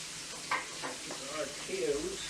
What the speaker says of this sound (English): I'm going to flip them a little early maybe.